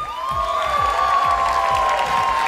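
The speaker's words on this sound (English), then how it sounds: "Please give them a round of applause." Loud applause and cheering from a large audience at an international beauty pageant final, a steady dense roar of clapping with whoops and high voices riding over it throughout.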